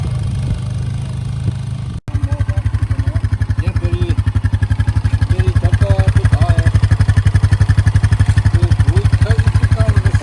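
A homemade engine-driven soybean planting machine built from a steel plate and welded 1-inch tube runs steadily at close range, its loud rapid chugging beat holding an even rhythm after a brief pause near the start.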